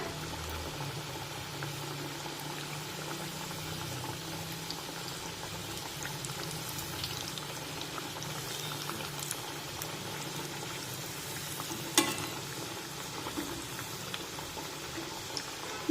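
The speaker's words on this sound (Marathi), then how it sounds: "मध्यम आचेवर हे वडे छान सोनेरी रंगावर तळून घेऊया" Chana dal vadas deep-fry in oil over a medium flame, giving a soft, even bubbling hiss that stays quiet and steady throughout, with one brief clink near the end and no voices.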